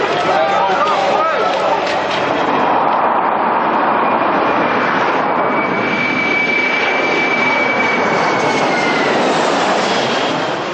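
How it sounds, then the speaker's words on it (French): An airplane coming in to land at Manchester Airport, a loud, steady roar of jet engine noise with a rising whine, sustained throughout and heard alone, with no talk. "Ici, un avion atterrit toutes les 5 minutes."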